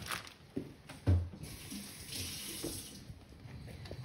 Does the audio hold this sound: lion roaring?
no